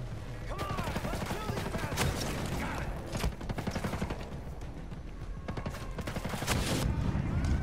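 Gunfire rattles in Ghost Recon Breakpoint: repeated sharp shots and short bursts crack at close to mid range, with a few louder reports standing out against a busy, rumbling background.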